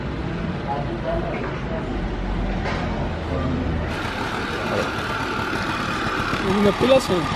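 A French Motobécane moped idles at an oasis in Tiout, Morocco, giving a low, steady engine rumble that fades after a few seconds while someone talks over it nearby.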